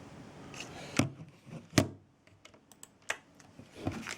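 Keys tapped on a computer keyboard, a few distinct close clicks with sharper strikes near the start and a lighter scatter of taps afterward, no talking.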